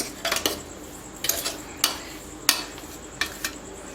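Two ground spice powders of pepper, coriander, long pepper and cardamom being mixed together in a container, heard as a few bright metallic clinks and scrapes of a spoon against the vessel in irregular bursts, close by, without talking.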